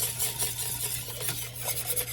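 Milk being whisked in a hot pan while it thickens, a soft steady scraping and swishing with a low hum behind it, quiet and close.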